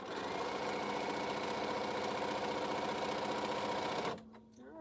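A sewing machine runs steadily, stitching along the edge of fabric in a rapid, even mechanical rhythm that stays loud and close, then stops abruptly near the end, leaving a faint hum.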